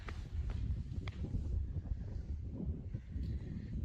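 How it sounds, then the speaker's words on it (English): Steady wind buffets the microphone with a low rumbling roar, joined by a few faint rustles and soft thuds. "It's pretty windy up here."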